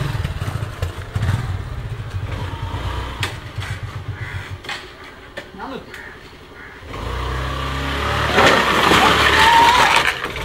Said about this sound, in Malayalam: ഞാൻ വീൽ ചെയ്യാൻ പോട്ടെ